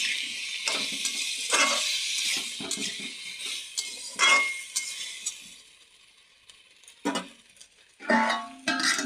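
A spoon clinks and scrapes against a pan as tomatoes are stirred into frying fish and pumpkin pieces, with a light sizzle and repeated close metallic taps and no talking.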